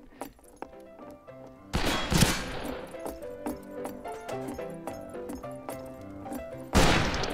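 Gunshots in the Western shooter Fistful of Frags, as two sharp, loud blasts a few seconds apart over a busy background of game music and clatter.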